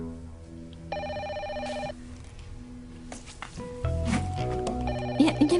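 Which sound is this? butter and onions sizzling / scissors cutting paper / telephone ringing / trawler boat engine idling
telephone ringing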